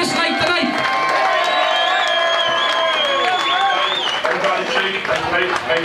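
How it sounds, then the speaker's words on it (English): Applause and cheering from a live audience at an event, with dense clapping and whoops alongside voices and tonal sounds, sustained throughout. "let's have a round of applause for Bradley for this night tonight"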